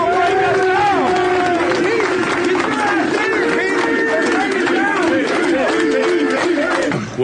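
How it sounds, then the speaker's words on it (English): A whole stadium section at an NFL game cheers for a single player: a loud, dense crowd roar with rising chant-like shouts and whistles that holds steady throughout. "An entire section cheering for one man."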